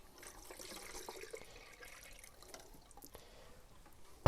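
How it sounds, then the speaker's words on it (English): Plain water runs and drips faintly while a film developing tank is rinsed after developing Ilford PAN F+, with soft trickling and splashing in a quiet room and no voices. "I'm basically washing out the developer with plain water"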